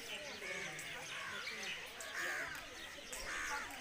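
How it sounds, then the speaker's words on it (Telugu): Crows cawing and doves calling around a small, quiet village with no phone network, several faint overlapping bird calls at a distance against soft outdoor ambience. "విన్నారు కదా గువ్వలు కాకులు అరిచేది"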